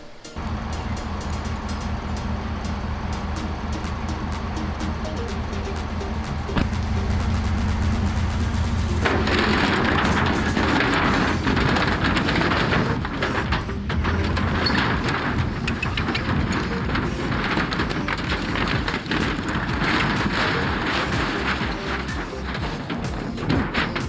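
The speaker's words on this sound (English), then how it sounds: "You just saw me tear off the roof of what's left of the trailer." Demolition of an abandoned trailer's roof, with loud continuous crashing, thumping and scraping of wood and metal that grows heavier partway through and keeps on with repeated impacts.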